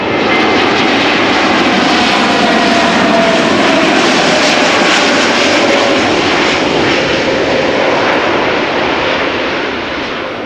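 An Air Transat A321neo narrow-body jet arrives from Montreal on the Kaagbaan runway at Amsterdam Schiphol Airport. A loud, continuous engine roar holds steady and eases slightly toward the end.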